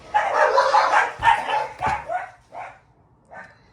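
Dogs bark in a rapid burst of loud yaps, then a few sparser, quieter barks trail off, with no talking.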